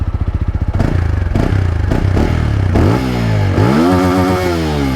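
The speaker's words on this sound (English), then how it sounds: "One thing I'll also add is the exhaust note of this bike." Near and loud, a TVS Apache RTR 200 4V motorcycle exhaust starts with a rapid thumping idle, then revs hard several times in sharp rising sweeps, its engine note climbing and falling between blips.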